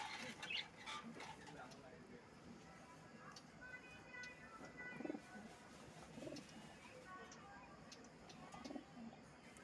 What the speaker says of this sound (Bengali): কবুতরের ডাকগুলো ভালো লাগে আমার